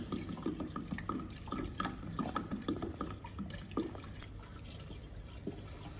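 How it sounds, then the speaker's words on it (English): Water is poured into a handheld fiber laser welding machine, giving faint trickling, splashing and dripping that come in short bursts, then settle to a quiet tail. "before start the machine, you need to add water in the machine."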